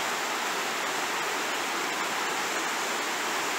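The Merrimack River flows a few feet below its bank, a dense, steady rushing wash of water that holds loud and even throughout.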